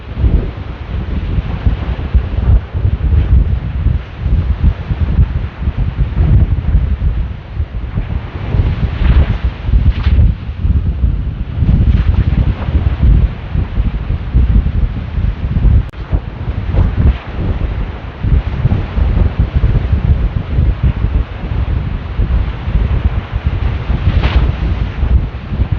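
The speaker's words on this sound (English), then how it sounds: "It's very windy here." Strong wind batters the microphone at a Jersey Shore beach, a loud, continuous roaring buffet with gusty surges and faint surf beneath, no talking.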